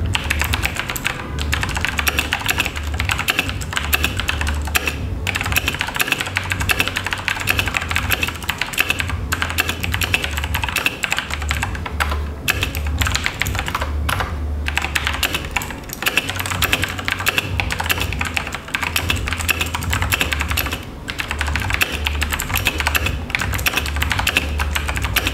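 Steady, rapid typing on a cheap mechanical computer keyboard with Kailh switches, picked up by a microphone placed close to the keys, with continuous clicky keystrokes throughout and no talking.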